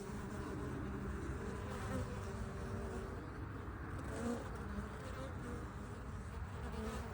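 Honey bees buzz around a hive in a sunny March apiary. The dense, steady drone of many insects continues throughout at an even level, with no voices.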